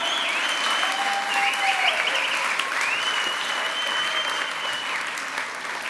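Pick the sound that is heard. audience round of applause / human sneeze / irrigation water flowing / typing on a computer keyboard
audience round of applause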